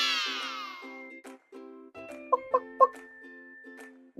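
Short clucks from a chicken, in what seems to be a toy or cartoon farm-animal setting, with a few rhythmic bursts near the middle over a steady tonal backdrop.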